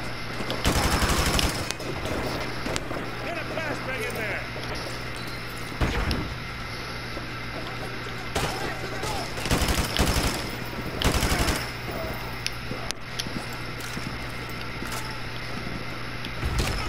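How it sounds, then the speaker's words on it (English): AK rifle fire in Call of Duty Modern Warfare 2, loud automatic bursts cutting through a busy battlefield soundscape, with sharp volleys near the start and scattered shots later. "let's go with the good old AK this time"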